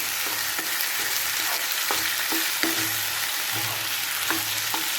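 Cleaned squid pieces sautéing in a pan for squid gravy sizzle loudly and continuously, while a spoon scrapes and clatters against the pan in an irregular rhythm of stirs, close up and without speech.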